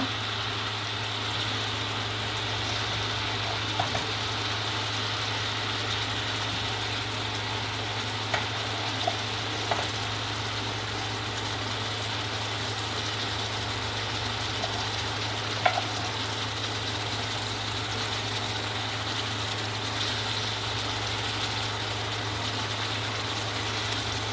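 Foli fish and potatoes frying together in a pan during a bhuna, a steady, even sizzle over a constant low hum, with a few faint clicks and no talking.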